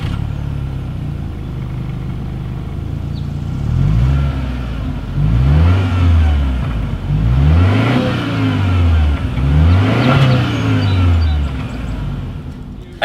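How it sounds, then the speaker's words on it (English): A 2020 Subaru Ascent SUV with dual chrome-tip exhaust outlets idles, then revs several times in a row, each rev swelling and falling back. The close, throaty note repeats in a regular rhythm before settling back to idle. "As always, here is that exhaust clip."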